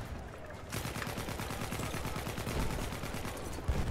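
Rapid automatic gunfire in the video game Battlefield 1 begins after a brief lull and continues as dense, steady bursts, with a heavier shot near the end.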